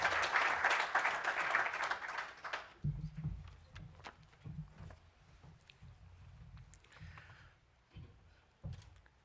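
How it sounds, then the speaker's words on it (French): A conference audience breaks into loud applause that lasts about three seconds and then stops abruptly, followed by scattered thumps, shuffling and faint room noise. "on l'accompagne avec des applaudissements fournis"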